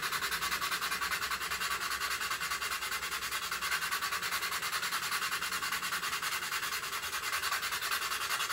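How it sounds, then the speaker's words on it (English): A sanding stick rubs steadily across the engine trunks of a model aircraft, a continuous close scratchy hiss with an even back-and-forth rhythm and no talking. "I'm just going to run the sanding stick over"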